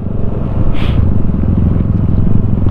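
A Yamaha NMAX scooter labours over a bumpy, slippery dirt trail, its engine droning loud and close with a rough, jolting rumble throughout.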